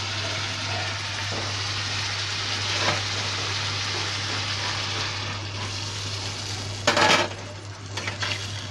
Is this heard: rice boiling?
yes